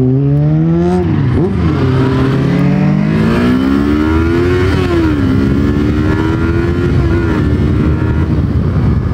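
A Kawasaki Versys 300 motorcycle accelerates hard, its engine revving up through several rising pitches with brief dips at gear changes, loud and close under constant wind rush.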